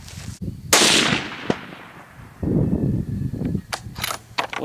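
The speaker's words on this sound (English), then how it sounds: "The next thing we're doing is going for a shot at 200 yards." A Remington 700 SPS .308 rifle fires at a 200-yard target outdoors, a loud sharp report followed by a decaying echo, with further clicks and knocks afterward.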